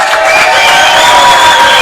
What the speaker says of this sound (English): Crowd giving it up for Francesco